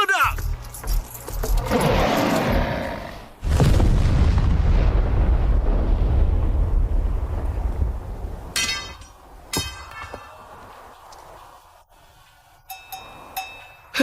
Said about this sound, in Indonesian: Meledak.